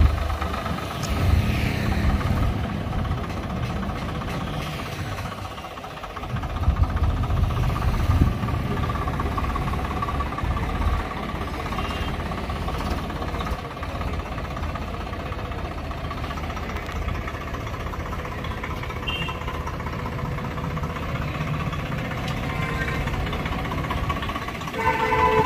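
A Swaraj 855 FE tractor engine runs steadily at close range, a continuous low mechanical drone with a brief dip in level near the sixth second before settling back into an even idle.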